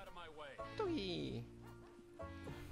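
A dog barks and yips in the video game GTA 5, with a few whimpering, pitch-sliding barks heard near and clear while someone talks over them.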